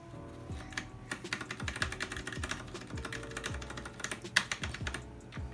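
Quick bursts of keystrokes clatter from a budget Zero Two custom mechanical keyboard, close and crisp, with a slightly rattly space bar thudding among the irregular rhythm of typing, no voices.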